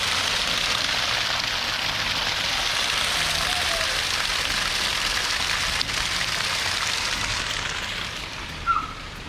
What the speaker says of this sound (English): Portland has been flooded with rain